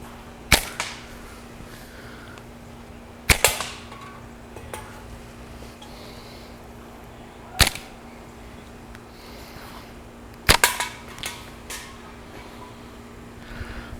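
Shots from a Schrade SCHF39 Guide Master slingshot knife, a few sharp isolated snaps several seconds apart, each with a short rattle after, against a quiet background.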